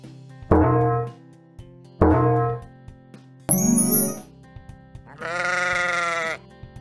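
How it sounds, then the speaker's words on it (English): Sheep bleat in a toddlers' animal sound game, two loud wavering calls followed by a bright bell-like chime and a longer sustained bleat, each separated by short pauses. "Sheep."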